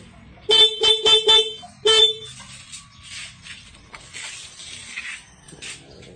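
A Royal Alloy GP180 scooter horn honks in four quick beeps, pauses, then gives one more short blast, followed by low rustling background noise.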